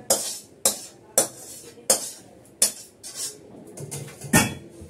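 A metal karahi wok being washed at a sink, with a series of sharp clanks and scrapes about every half second, close and loud, and running water and rubbing in between.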